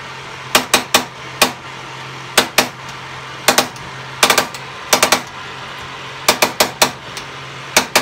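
A gas stove burner's spark igniter in a 2013 Sabre fifth-wheel RV snaps in sharp, loud clicks, grouped in quick bursts of two to four with short pauses between, close up and alone.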